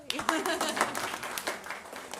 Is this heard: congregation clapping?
yes